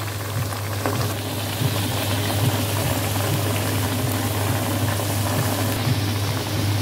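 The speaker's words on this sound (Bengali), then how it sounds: "আমি তিনটা করে ভেজে নিই।" Kebabs frying three at a time in hot oil over a medium-low flame, a steady close sizzle with bubbling crackle running continuously with no talk.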